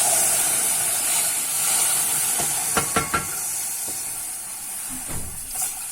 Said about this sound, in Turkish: Şimdi 1 litrelik sütümü içine aktarıyorum